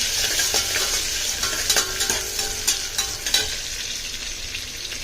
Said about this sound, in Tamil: நல்லா அந்த கண்ணாடி பதத்துக்கு வதக்கிக்கலாம்.